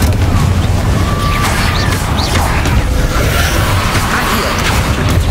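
Confringo blasting spell explosions in the Hogwarts Legacy video game, a dense, continuous low rumble of booms and bursts with scattered crackles, loud and steady throughout.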